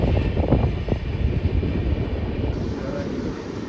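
A passenger train on the Kolkata–Darjeeling route rumbles into New Jalpaiguri railway station, a loud, dense low rolling noise with some clattering near the start that steadies and eases slightly toward the end.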